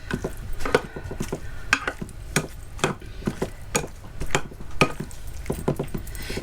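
Homemade beef stew with herbs stirred in a pot, irregular close clunks and scrapes of a spoon against the pot with a soft wet churn between strokes, no voices.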